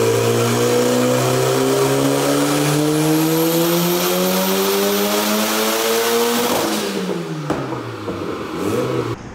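A Honda EF engine in a car on a dyno revs loudly and steadily climbing through the rev range, then drops off with a few shorter blips near the end; no talk.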